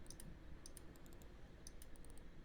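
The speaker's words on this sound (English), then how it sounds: "That one makes clicking sounds." In the video game Plastic Duck Simulator, a rubber duck gives off quiet clicking sounds, crisp ticks in small clustered groups repeating over a few seconds, faint and with no voices.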